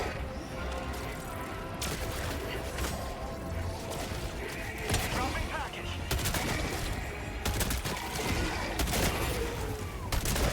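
Machine gun in Helldivers 2 firing at Illuminate overseers: loud, rapid bursts and sharp impacts over a dense battle din, steady throughout, with occasional talk under the shooting.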